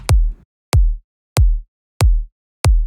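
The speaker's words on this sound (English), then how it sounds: "the first one is the kick drum, which is nothing fancy" Five punchy, deep electronic kick drum hits in an otherwise empty mix, evenly spaced about two-thirds of a second apart, each with a sharp attack and a short booming low tail.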